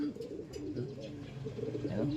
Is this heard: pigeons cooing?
yes